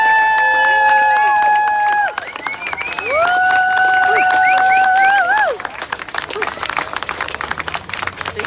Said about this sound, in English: Big crowd here today, as usual.